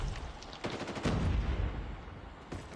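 Gunfire from the video game Call of Duty Mobile during a tournament match, several sharp shots and short bursts cracking out at about 0.6, 1.0 and 2.5 seconds over a steady game background, with no talk.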